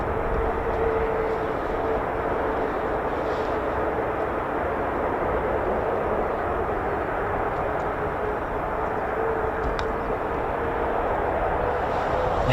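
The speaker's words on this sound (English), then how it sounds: "We've got F-15 startups." F-15 fighter jets starting up engines at an RAF Lakenheath air base, heard as a steady, loud, continuous roar with a faint whine, wind noise mixed in, and no break for the whole stretch.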